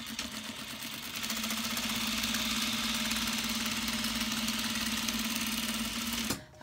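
A sewing machine runs steadily for several seconds stitching quilted vinyl for a purse at a stitch length of about 3, a close, even mechanical whir that stops abruptly near the end.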